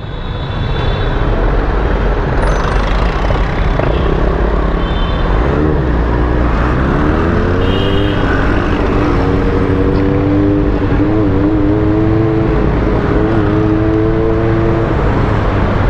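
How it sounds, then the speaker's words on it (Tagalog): Road traffic heard from a Honda CB400SF motorcycle in town: steady loud engine and wind rumble with passing vehicles and rising, falling engine tones from nearby cars throughout. "Dito tayo sa traffic."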